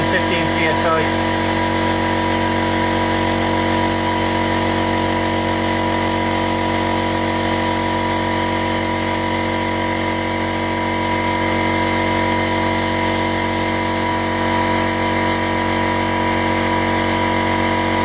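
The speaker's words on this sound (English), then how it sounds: "Compressor kicking back in, so it should come up to 115 psi." An air compressor refilling a portable reserve air tank runs loud and steady throughout, a continuous motor drone with a constant hum that never breaks.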